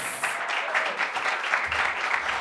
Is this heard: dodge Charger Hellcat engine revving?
no